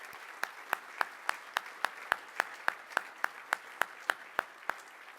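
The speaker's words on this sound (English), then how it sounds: "So if we could just give them a round of applause, I'd appreciate it." Slow, evenly spaced claps, roughly four per second, at a foundation's annual gala: crisp and distinct, a sparse round of applause rather than a full crowd.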